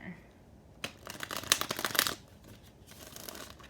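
Tarot cards being shuffled by hand, a close, crisp burst of riffling and flicking that peaks briefly and then settles into quieter card handling.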